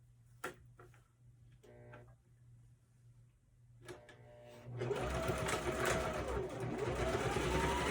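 A sewing machine top stitches a fabric wristlet bag: a few quiet clicks and short bursts at first, then a loud, steady whirring run of stitching for the last few seconds.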